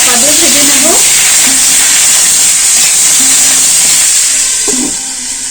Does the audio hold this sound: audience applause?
no